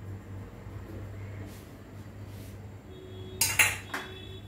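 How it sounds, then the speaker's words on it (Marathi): A heavy pot is set down on a gas stove, giving a couple of sharp metallic clanks near the end after a low steady hum from the burner. "आता आपण गॅस पेटवून घेऊया आणि जाड असं भांडं ठेवू"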